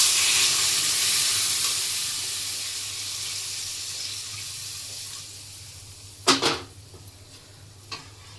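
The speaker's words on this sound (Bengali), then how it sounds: "এবার আমি জল ঢেলে দিচ্ছি।" Water poured into a pan of hilsa fish curry with potatoes and Malabar spinach stems, a broad rushing hiss that gradually fades, followed by a couple of short clanks.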